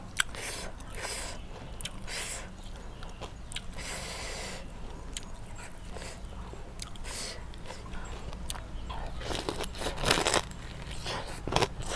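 Crispy fried pork belly skin crunching while eaten alongside a spicy Thai rice-noodle papaya salad with fermented fish sauce, giving repeated close, sharp crackly bites over a steady background hum.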